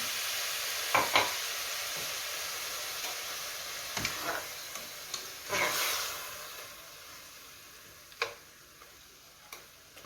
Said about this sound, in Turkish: Bu şekilde soğanla birlikte kuşbaşı etim güzelce kavrulmasını bekleyeceğim